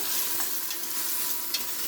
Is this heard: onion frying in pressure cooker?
yes